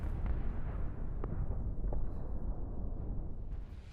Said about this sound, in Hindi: दक्षिण लेबनान में आईडीएफ के विध्वंसक हमले को लेकर खबर है जहां हिजबुल्लाह के लॉन्च सेंटर पर महाविस्फोट हुआ